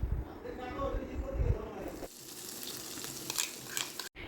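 Onion paste dropped into hot oil with whole cumin and black cumin seeds, giving a loud, dense sizzle that eases into a steadier, softer hiss as it fries.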